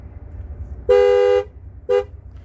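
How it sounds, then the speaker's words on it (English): Horn of a 2012-2018 Ford Focus sounding twice: a loud, steady honk of about half a second, then a shorter second toot, over low background noise with no one speaking. "Okay, this horn works."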